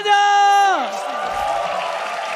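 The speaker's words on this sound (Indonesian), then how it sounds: "tepuk tangannya." A crowd roars and cheers at an esports match, the MPL Indonesia Alter Ego versus EVOS Legends game, with a caster's voice sliding off before a sustained, broad wash of cheering and applause fills the rest.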